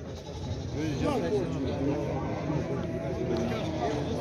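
Several sheep and rams bleating close by at a livestock market, repeated wavering cries overlapping with a crowd's chatter and background bustle.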